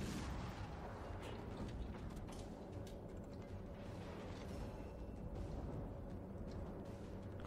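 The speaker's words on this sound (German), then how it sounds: "Jetzt schießt er aber auf mich." Warship artillery in World of Warships rumbles in a continuous, dense roar of booms and heavy low-end blasts, with no clear gaps.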